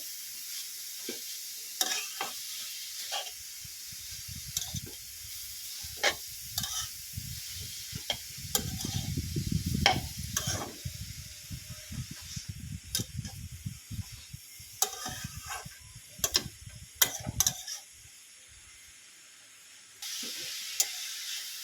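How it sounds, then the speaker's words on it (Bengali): Grated carrots fry in ghee for carrot halwa, a steady soft sizzle broken by repeated scraping stirs of a spoon against the pan, with a busier burst of stirring midway and no talk. "গাজরগুলো একটু ভেজে নেব এইভাবে"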